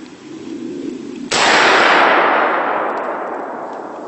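A rifle shot fired during a deer hunt in Indiana: one sudden sharp blast over quiet outdoor background, followed by a long rolling echo that slowly fades across the field.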